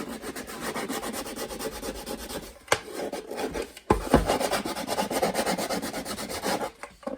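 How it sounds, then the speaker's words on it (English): Hand sanding of a wooden cigar box guitar neck makes rhythmic back-and-forth rasping strokes, close and steady, broken by a couple of brief knocks and pauses. "then you just sand it"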